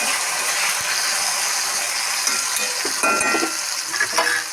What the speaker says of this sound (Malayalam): ഇനി ഒലിവുകായാണ് ഇട്ട് കൊടുക്കുന്നത്